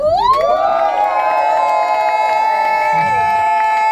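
A club audience in Cannes shouting and cheering at a performer's call, a loud, steady wall of crowd voices with whoops rising above it and some clapping mixed in.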